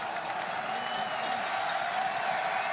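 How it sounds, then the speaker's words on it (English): Stadium crowd roaring and cheering at a college football game between Western Michigan and Northern Illinois, a steady, dense swell of many voices filling the space. "Crowd gets into it again."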